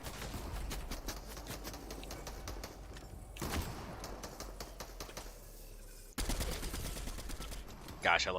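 Rapid automatic gunfire from a favored gun in a multiplayer shooter video game rattles in dense bursts throughout, fairly steady with a sharper burst near the end, with a player's voice faintly underneath.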